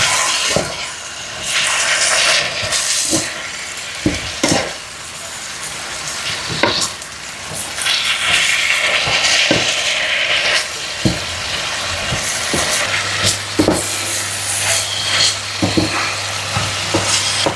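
Bamboo shoots and beef brisket fry in a pan while being stirred, a constant sizzle broken by scraping and knocking of the utensil against the pan, loud and close.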